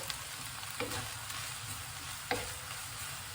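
Vegetables and onions cook over heat for noodles, producing a continuous soft sizzle with a few scattered stirring taps, and nobody speaks.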